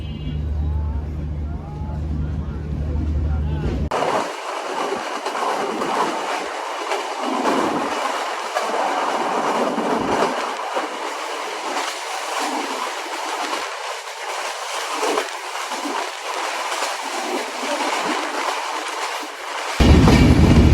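The Kapotaksha Express pulls away from Alamdanga railway station with a steady, loud rumble and clatter of carriages rolling on the rails, heard from on board, with voices faint under the din.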